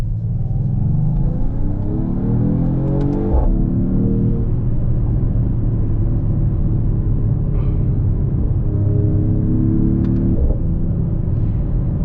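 A Mercedes-AMG GT 43 4-door coupe engine in sport mode rises in pitch, drops sharply at a gear change, then climbs again with another quick shift, a steady loud rumble throughout.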